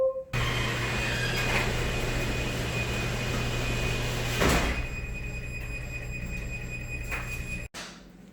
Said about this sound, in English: ask MyQ to close the garage door.